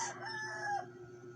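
A rooster crows once outdoors at moderate distance, a short bright call that trails off after under a second, leaving a steady low hum behind it.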